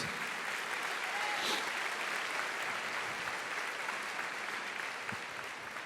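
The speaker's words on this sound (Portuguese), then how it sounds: "Aplauda ao Senhor," A church congregation applauds in a steady, dense wash of clapping that holds evenly throughout, fairly quiet and diffuse as if heard from within a large hall.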